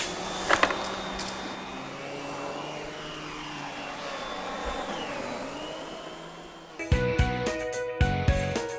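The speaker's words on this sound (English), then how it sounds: "if I accidentally vacuum something that I shouldn't, it's not a problem" An SEB 236 canister vacuum cleaner runs with a steady broadband whine and hum for most of the clip, then a louder, harsher burst of motor noise sets in near the end, with no talking.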